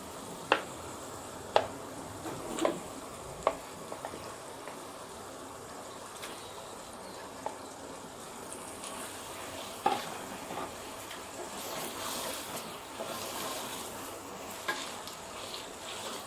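Onions and green chillies frying with okra in a pan, a soft steady sizzle with a few sharp clinks of a spoon against the pan early on, then quieter frying.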